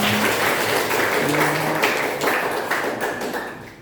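Audience clapping at a school science debate, a steady patter of many hands filling the room, loud at first and gradually fading, with brief voices mixed in.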